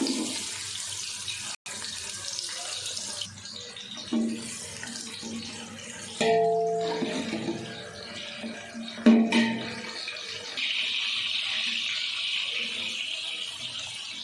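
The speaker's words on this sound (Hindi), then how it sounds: "घी गरम हो गया, अब इसमें डाल देते हैं प्याज।" Onions hiss and sizzle in hot ghee in a large pot on the stove, a steady close frying noise that swells in bursts and settles into a brighter sizzle toward the end.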